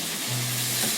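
Beef sizzling in hot oil in a pan as ginger and garlic are added, a dense continuous frying hiss with a low steady hum underneath, close and alone without voices for a second.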